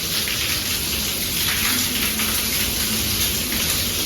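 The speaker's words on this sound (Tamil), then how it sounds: "இப்போ தான் மழை வந்து ஸ்லோவாக இருக்குது." Heavy rain pours steadily onto a house, water spilling down from an overflowing spot and spraying toward the windows; a dense, constant hiss of close rainfall with no voices.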